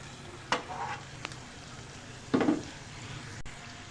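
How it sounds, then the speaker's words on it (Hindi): Yogurt being stirred into garlic and ginger sautéed in a pan for matar pulao, a faint sizzle under a couple of short scraping stir strokes, quiet between them. "दही ऐड करने के बाद अब हम इसको अच्छी तरह खूब मिक्स करना है आपने"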